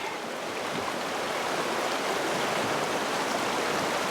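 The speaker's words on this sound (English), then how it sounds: "Nice to have the river handy." A river flows steadily on a hot day, a continuous broadband rush of moving water that stays even and close throughout with no talk.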